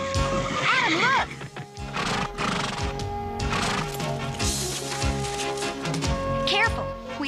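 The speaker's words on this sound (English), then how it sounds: "Teela, you said we were going on a wild horse roundup, but you didn't say they had wings" Winged wild horses in a cartoon whinny loudly in rising and falling neighs, several calls layered over clopping hooves and busy music-like background noise.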